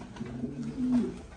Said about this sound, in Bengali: হিউজ টেলের কবুতর